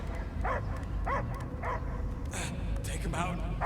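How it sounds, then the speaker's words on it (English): Dog barks in Marvel's Guardians of the Galaxy video game, several sharp yips spaced across the moment, close and clear over a steady low rumble of game ambience, with a voice also present. "I hear only barking."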